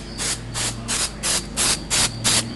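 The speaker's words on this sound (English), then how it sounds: "And it's an all-purpose spray adhesive." An aerosol can of all-purpose spray adhesive hisses in six short, evenly spaced bursts, sprayed close by as a light coat over a vinyl stencil on old wood, with no talking.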